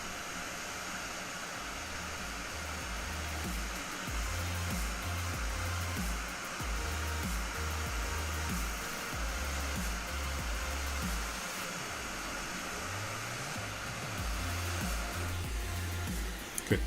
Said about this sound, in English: But I need to heat this whole board up.